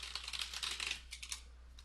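Quick bursts of typing on a computer keyboard as a layout name is entered, a rapid cluster of light clicking keystrokes followed by a few scattered taps, close and fairly quiet, no voices.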